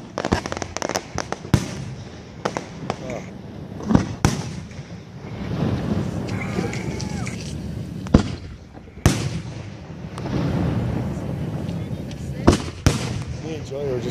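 Fourth of July fireworks at Menasha boom and crackle in repeated sharp blasts at irregular intervals, fairly close and loud, while several people chat continuously between and over the bursts.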